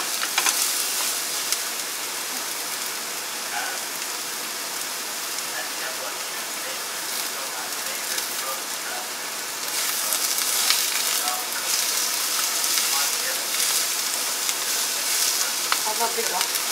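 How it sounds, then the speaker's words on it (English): Brussels sprouts sizzle and fry in a pan, a steady broadband hiss running throughout with soft scraping from stirring, growing slightly louder partway through; no talking. "To stir it nicely."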